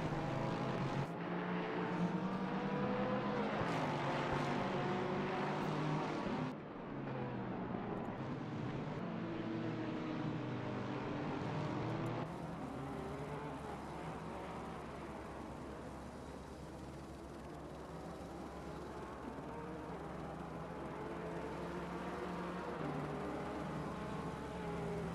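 Lexus race cars battle on a circuit, giving a steady, loud engine drone whose pitch rises and falls as they pass, continuing for about twenty-five seconds with no clear talking.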